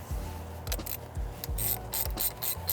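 Ratchet wrench with a size 10 socket loosening the negative terminal on a car battery, giving a quick series of close, crisp clicking pawl ratchets in short bursts, with no talking.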